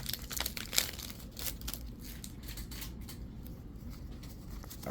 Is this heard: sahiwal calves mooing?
no